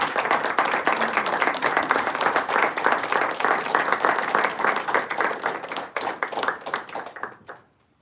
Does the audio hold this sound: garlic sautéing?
no